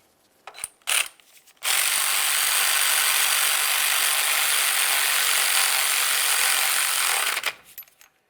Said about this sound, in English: start on your 10mm headed nut, snug it up.